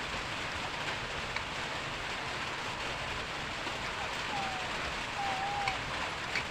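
Rain falls steadily outdoors, a faint, even hiss of drops that continues without a break, with no talking.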